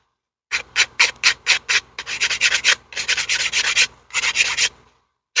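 Sanding stick rubbed against the edge of a plastic Walthers Cornerstone State Line Farm Supply loading dock model, a run of short, close rasping strokes in a quick rhythm, then longer, denser back-and-forth scrubbing with brief pauses between bursts.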